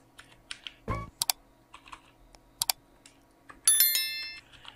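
Sparse keystrokes on a computer keyboard, quiet and close, with scattered clicks and a brief louder burst near the start, then a bright ringing chime toward the end.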